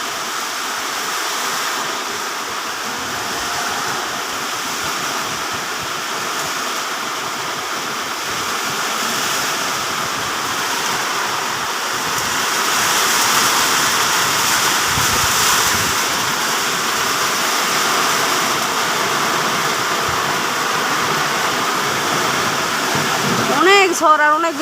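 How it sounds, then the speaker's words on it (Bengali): Heavy rain pours steadily in a strong windstorm, a dense continuous roar of falling water and gusting wind that swells slightly midway, with a few brief louder rattles near the end. "অনেক ঝড় আর অনেক বৃষ্টি হচ্ছে।"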